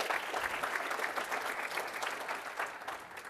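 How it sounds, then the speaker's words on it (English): Warm, sustained applause from a seated audience at a corporate speaking event, many hands clapping evenly before slowly tapering at the end. "So if we can give him another round of applause."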